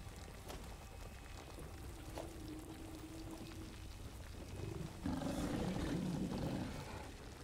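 A creature in Satisfactory lets out a long, low, rumbling roar that swells louder in its second half, set over steady game ambience.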